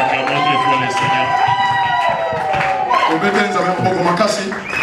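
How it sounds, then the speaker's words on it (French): A wedding congregation at a nuptial blessing cheers and shouts loudly together, a dense crowd roar with raised voices and whoops filling the whole stretch. "Nous acclamons très fort le Seigneur."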